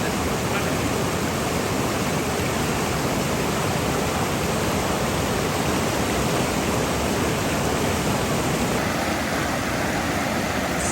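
Water rushes over the Darling River weir in an outback Australian town, a continuous, even hiss of flowing water heard close and alone, with no talking.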